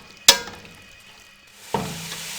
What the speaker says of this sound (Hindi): मीडियम फ्लेम पे प्याजों को हम ब्राउन कर लेंगे